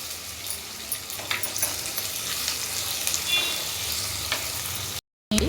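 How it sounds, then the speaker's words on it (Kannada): Onions frying in a pan with salt for a rural-style chicken sukka, a constant crackling sizzle with stirring scrapes, close and steady before a brief cut to silence. "ಈರುಳ್ಳಿ ಬೇಗ ಫ್ರೈ ಆಗಲಿ ಅಂತೇಳಿ ಸ್ವಲ್ಪ ಉಪ್ಪನ್ನು ಹಾಕ್ತಾಯಿದ್ದೀನಿ"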